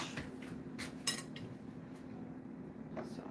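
A spoon scoops fruit juice toward a funnel, making a few light metallic clinks and taps against a container over a quiet background, close and soft, with a brief louder clink near the middle and no talking.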